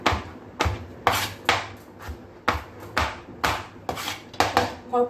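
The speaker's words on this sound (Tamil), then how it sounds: "கோவக்காய் பூரை நறுக்கிடு" A knife chops ivy gourd steadily on a cutting board, sharp close knocks falling in an even rhythm, several quick cuts in a row.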